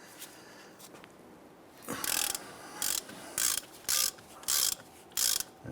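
A 1/2 inch drive ratchet wrench loosening ball joint bolts on a 1999-2004 Jeep Grand Cherokee, six loud, evenly spaced ratcheting bursts following a quieter stretch.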